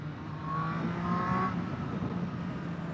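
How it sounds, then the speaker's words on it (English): Triumph Street Triple R 765 motorcycle engine revving up through the rev range, a rising whine and growl that swells and eases over a few seconds, moderately loud and without talk. "If you twist that throttle, when your RPMs get up a little there and the rev range"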